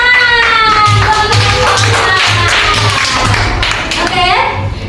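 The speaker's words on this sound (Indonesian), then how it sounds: "Tepuk tangan." Children in a classroom clap together in a loud, steady patter of many hands, sounding close and continuous throughout, with young voices calling out on top of the applause.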